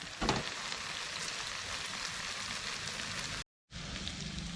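Onions frying with salt and curry leaves in a pan, a steady close sizzle and crackle running throughout, with one brief drop to silence near the end.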